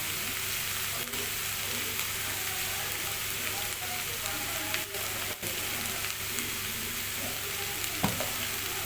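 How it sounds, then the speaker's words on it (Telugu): Ivy gourd pieces fry in a pan for a Telugu-style dry fry, giving a steady, close sizzle throughout with a few soft clicks of stirring and one sharper tap near the end, no talk over it. "ఇప్పుడైతే నేను దొండకాయ ముక్కలు వేస్తున్నాను"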